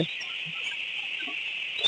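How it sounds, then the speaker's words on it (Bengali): Sixteen-day-old ducklings on a duck farm give a thin, steady, high-pitched peeping chorus close by, with a few faint soft calls underneath. "আমাদের এই হাঁসের বাচ্চাগুলোর বয়স কিন্তু এখন বর্তমানে হচ্ছে"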